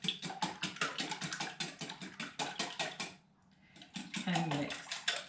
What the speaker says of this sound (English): So I have 4 eggs and I just whisk it a little bit